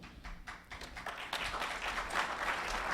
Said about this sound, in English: everybody was clapping